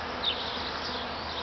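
A large honeybee swarm arriving at a hive fills the air with a dense, steady buzzing hum, continuous and fairly close, with no voices.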